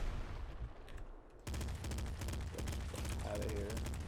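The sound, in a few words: corpse explosion in video game Nuclear Throne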